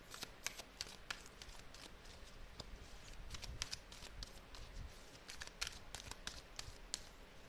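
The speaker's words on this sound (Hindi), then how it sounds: "मैं और एक दो कार्ड्स यहाँ से लूँगी फ्रेंड्स" Tarot cards are shuffled and drawn in a quiet room: soft, rapid riffling and flicking with scattered sharp snaps, close and faint, with no talking.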